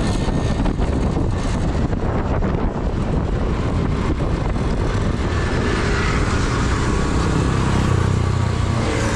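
Motorcycle ride with strong wind buffeting the microphone, a steady loud rushing roar throughout with engine drone underneath, no voices.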